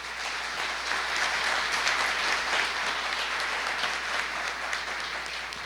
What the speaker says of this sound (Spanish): les pido de corazón un aplauso para la ciudad y para su gente